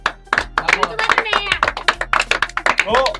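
Applause for the winner of a riddle game show, a crowd of hands clapping in quick uneven bursts near and loud, mixed with talking voices throughout.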